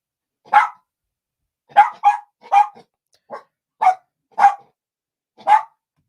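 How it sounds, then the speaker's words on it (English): A puppy barks in a quick series of short, sharp yips with uneven gaps between them, sounding close and clear against a silent background with no other noise. "Puppy makes noise."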